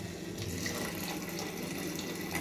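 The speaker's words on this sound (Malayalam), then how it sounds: "തിളച്ച വെള്ളമാണ് ഞാൻ ഒഴിക്കുന്നത്" Boiling water is poured over rice in a pot while jollof rice is being made, giving a soft, steady splashing and gurgling stream that runs evenly without pause and stays fairly quiet throughout.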